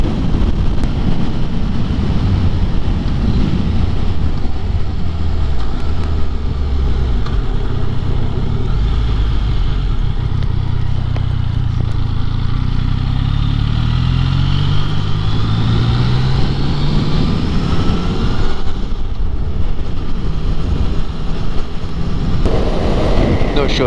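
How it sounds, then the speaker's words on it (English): Strong wind roars across the microphone while riding a Yamaha XSR900 motorcycle on a touring trip through Scotland, a loud constant buffeting rumble with the engine faintly beneath it, continuing throughout. "the wind is really, it's crazy"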